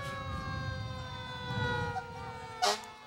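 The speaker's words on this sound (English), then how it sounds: "those sirens are pretty loud" Fire truck sirens at a St. Patrick's Day parade in Elmhurst wail steadily from some distance, their tones gliding slowly, with a brief sharp noise near the end.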